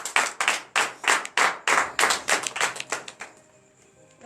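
Congregation at a morning prayer service clapping in acclamation, about a dozen sharp, close, rhythmic claps in a quick steady beat, tapering off into quiet.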